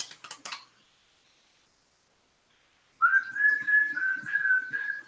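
A man whistles a signature tune, a steady, clear, close melody lasting a couple of seconds after a brief burst of handling noise and a quiet pause.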